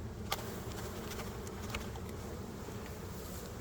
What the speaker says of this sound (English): A few bees left in the box. I'm going to shake them in.